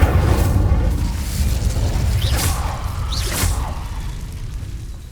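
Fire spell blast in the Hogwarts Legacy video game: a sustained loud roaring whoosh with two brighter bursts around the middle, over a constant low rumble.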